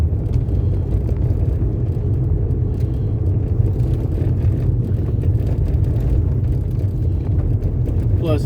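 Loud, continuous low rumble of a car with sporty suspension and snow tires on the front driving over a rough road, with road and tire noise heard from inside the cabin.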